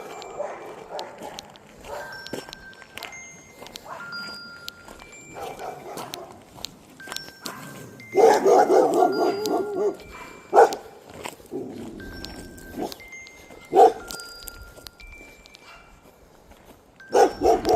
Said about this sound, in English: Hey, dogs came out to say hi.